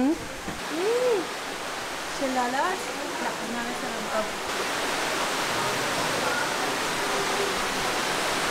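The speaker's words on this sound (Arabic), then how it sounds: "شلالات" Waterfalls at an open, unfenced mountain spot with planted palm trees give a steady broadband rush of falling water, loud and continuous throughout, with a voice speaking briefly over it early on.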